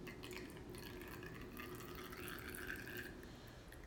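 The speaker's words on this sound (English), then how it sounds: "Kind of straining out the herbs at the same time that I pour it into" Comfrey-infused oil poured through a strainer into a measuring cup for an oatmeal salve: a faint, continuous trickling and dripping of liquid close by.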